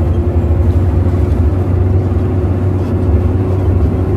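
A Hanvan G7 dump truck engine strains uphill under a load, a steady loud low drone with a constant hum and no breaks.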